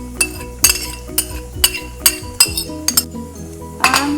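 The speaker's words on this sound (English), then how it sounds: "Now I'm going to add the coconut milk." Utensils clink repeatedly against a pot as coconut milk is added while cooking, a series of sharp metallic taps at an uneven rhythm, close and clear with no talk.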